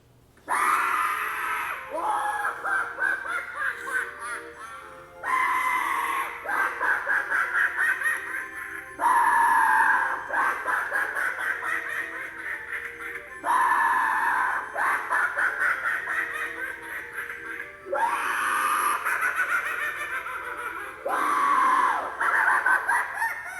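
An animatronic Spirit Halloween prop sounds repeated bursts of loud, squawking rooster-like crowing and clucking, about five cycles separated by short pauses, close and harsh, with no one talking.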